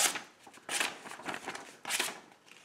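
A fixed-blade knife is tested on a cut, giving three or four short, crisp rasping slices spaced unevenly, close and fairly quiet, with no talk over them.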